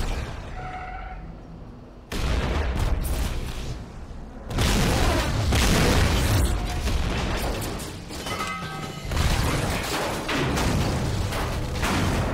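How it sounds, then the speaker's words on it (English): Explosive charges detonate aboard a ship in the video game GTA 5, loud booming blasts and rumbling debris that kick in abruptly and keep crashing and roaring for several seconds, with quieter game sounds before the first blast. "Let's go ahead and detonate these charges."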